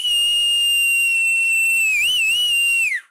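A whistle is blown in one long shrill steady blast, with a brief warble near the end before it fades out, loud and close with nothing else around it.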